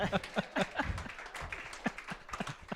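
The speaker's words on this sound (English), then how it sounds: "Would you give her a round of applause, please?" Light, sparse clapping from a small crowd at a café ticket drawing for a Blake Shelton event, a few distinct hand claps over a couple of seconds, fairly quiet.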